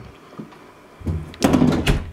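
A bedroom door in a house opens nearby with a soft rustle, then a couple of solid thunks and a wooden knock close up.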